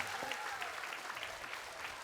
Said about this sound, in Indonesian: tepuk tangan buat grup Lemot